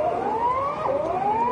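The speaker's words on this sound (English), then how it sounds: "Tsunami sirens were heard in Ecuador." A tsunami warning siren in Ecuador rises in pitch, drops briefly, then climbs again, heard at a moderate distance without voices.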